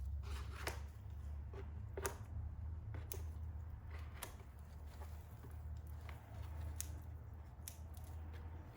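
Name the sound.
trimming loose material for a table centerpiece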